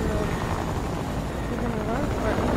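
Helicopter rotor and engine from the Fortnite video game, a steady continuous drone that holds at constant loudness for the whole stretch, with players talking over it.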